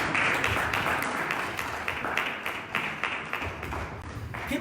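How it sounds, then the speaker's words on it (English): A banquet audience at an annual fundraising dinner and awards gala claps for an honoured ambassador, a dense, steady wash of many hands filling the room, with a few louder taps near the front. "Let's give her a round of applause"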